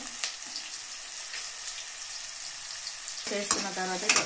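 Onions, chicken and salt sizzling steadily in a pan for chicken curry, with a spoon scraping and stirring near the end; no talking.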